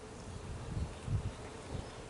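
Honey bees buzzing around a backyard hive, a close, steady insect hum with a few louder swells as bees pass near.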